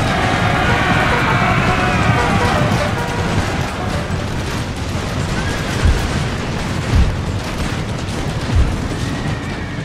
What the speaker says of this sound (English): all that gunfire.